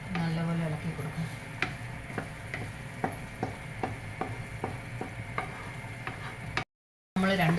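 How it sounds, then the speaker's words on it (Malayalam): A spoon stirs ripe banana halwa with jaggery syrup and ghee in a pan, tapping and scraping in a regular rhythm over a soft sizzle, with a brief voice at the start and end. "നല്ലപോലെ ഇളക്കി കൊടുക്കാം."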